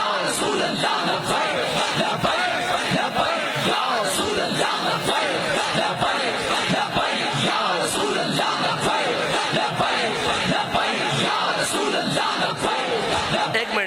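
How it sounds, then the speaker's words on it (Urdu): A large crowd at a rally chants the Labbaik slogan, a loud continuous roar of many voices yelling together with rhythmic surges that fill the whole stretch. "آج بھی لبیک کا نعرہ اسی طرح لگ رہا ہے"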